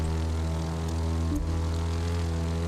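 A propeller plane's engine in the racing game The Crew 2 drones steadily and loudly, with a constant humming tone and a brief pitch shift midway.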